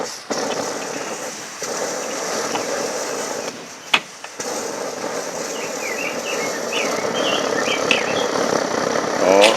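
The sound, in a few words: SVEA 123R camping stove burning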